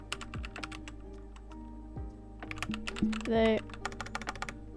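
HTML code is typed on a computer keyboard in quick, close, irregular bursts of key clicks over a low steady hum, with a brief spoken word partway through.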